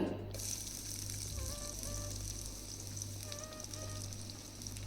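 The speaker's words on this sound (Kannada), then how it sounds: "ಆಯಿಲು ಬಿಸಿ ಆದಮೇಲೆ ಒಂದು ಆನಿಯನ್ನು ಹಾಕ್ಕೊಳ್ತಾ ಇದ್ದೀನಿ ಕಟ್ ಮಾಡಿರೋದು" Chopped onion sizzles in hot oil in a pan, a steady close hiss of frying that holds through the whole stretch, with faint tonal sounds in the background and no talking.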